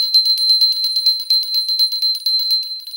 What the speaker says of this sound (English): So we gonna shake this bell. We gonna rattle this bell.